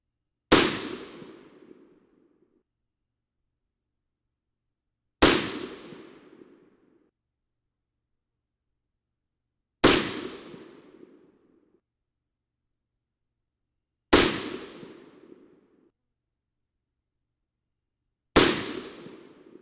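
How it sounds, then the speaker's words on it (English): A .22 Nosler rifle fires five unsuppressed shots at a range, each a sharp loud crack with a decaying echo, evenly spaced about five seconds apart with silence between. "I want to shoot one more group with this load before we move on to the factory ammo"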